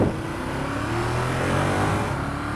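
A 2015 Ducati Monster 1200 on a test ride, its engine droning steadily and loud with a rising pitch as it pulls, under heavy wind rush, with no voices.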